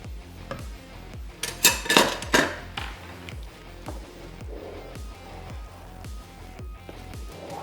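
Rhythmic metal scraping and tapping of a spoon in a pan as cream is stirred into polenta, steady and close, with a brief burst of louder clatter.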